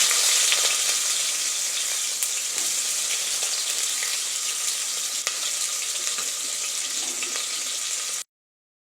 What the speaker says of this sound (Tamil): வெங்காயம் நல்லா இந்தளவு வதங்கிருச்சுங்க